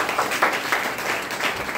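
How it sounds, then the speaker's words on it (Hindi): Applause from an audience at a Hindi-language DXN business seminar, a dense steady patter of clapping running throughout the short stretch with no voices. "तालियां।"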